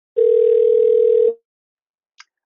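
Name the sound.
phone ringing from a browser call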